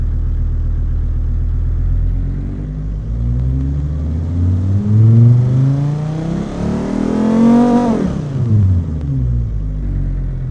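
A car engine built in the Automation simulator revs steadily, its pitch climbing through a long rise and then sweeping sharply downward near the end, loud and close with no talking over it.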